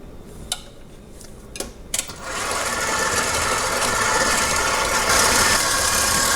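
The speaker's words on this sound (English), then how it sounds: "I'm going to bring my beater, my bowl up to my beater, and I'm going to cream this till it's really nice, combined and creamy" Electric mixer beater creaming butter with peanut butter in a bowl, starting after a few light clinks and settling into a steady whirring drone that swells slightly louder toward the end.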